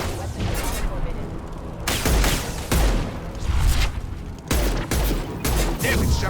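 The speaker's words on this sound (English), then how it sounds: "He's gunning down his own crew to keep control?" Rapid gunfire bursts from the video game Mass Effect 2 crackle loudly in dense, repeated volleys with sharp booming onsets, filling the whole stretch almost without pause.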